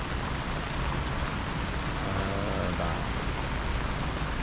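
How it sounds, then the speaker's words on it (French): Steady rain falls outdoors in a broad, constant hiss with no pauses, heard alone without voices. "Puis là il pleut, ils annoncent la pluie jusqu'à demain matin"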